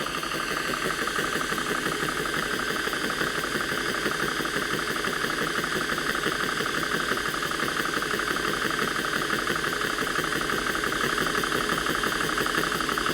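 Continuous, loud mechanical drone of an Air Venturi Nomad II personal airgun compressor running, with a fast, even knocking pulse that stays steady throughout.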